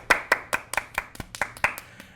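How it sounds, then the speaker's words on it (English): Hands clapping in a simple beat, about ten sharp, close claps spaced roughly a quarter second apart, slightly uneven, with no voices. "Everybody clap your hands."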